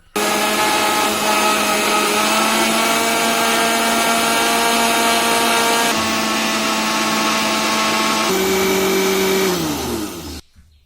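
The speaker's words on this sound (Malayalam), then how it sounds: "ഇനി മൂടി വെച്ചിട്ട് ഒന്ന് അടിച്ചെടുക്കുക." A blender whirs steadily for about ten seconds, churning avocado juice with sugar under its lid, with a loud constant motor drone that dips in pitch near the end before cutting off.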